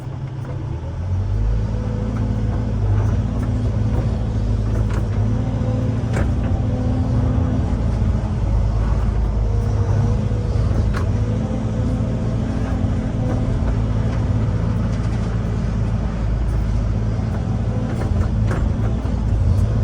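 A loaded truck drives and reverses on wet, muddy ground at a farm pond dam construction site, its engine a loud, continuous low rumble with rattling for the whole stretch.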